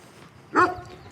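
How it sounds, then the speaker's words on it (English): An angry dog in Baker Lake, Nunavut, gives a single sharp bark, moderately close, against quiet outdoor background noise. "And an angry dog."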